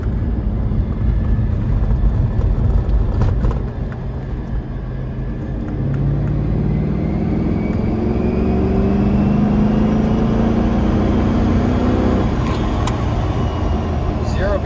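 A Cadillac CTS-V engine revs up to around 3,000 RPM, a loud continuous drone with a rising, sweeping tone as revs climb and fall back, heard from close by for the whole stretch.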